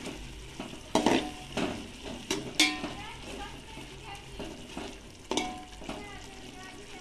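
Green peas frying and stirred in a pot for restaurant-style veg biryani, with soft sizzling under repeated sharp scrapes and clanks of a metal spoon against the pot, close up and without speech.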